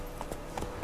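Horse hooves clip-clopping in The Witcher 3 video game, a few light evenly spaced clops over game ambience.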